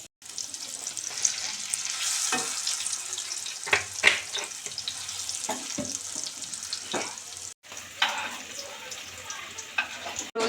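Paneer cubes frying in hot oil, a continuous crackling sizzle with occasional scrapes and clinks of a utensil and a few splashy water-like noises, moderately faint and close.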